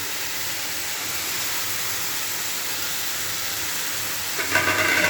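Egg and paneer curry fries in a pan with a steady, loud hiss and sizzle throughout, a slightly sharper crackle rising just before the end.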